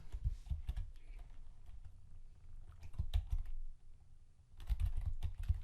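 Computer keyboard typing of a new title, several bursts of rapid close key clicks separated by brief pauses, with no voice.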